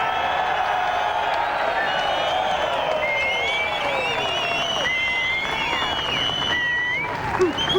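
A large motor racing crowd at Pukekohe claps, cheers and whoops for Greg Murphy, a loud sustained roar with shrill whistles and shouts rising over the continuous applause.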